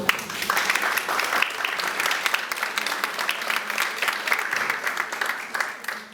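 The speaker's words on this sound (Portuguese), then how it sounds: "uma salva de palmas." Audience applause at a talk on Reiki at IPO Porto, a dense, steady wash of many hands clapping that carries evenly for about six seconds without voices on top.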